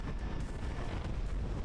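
Explosions boom across a combat zone in the flight game Project Wingman, a dense, continuous low rumble of overlapping blasts with no pauses and no voices.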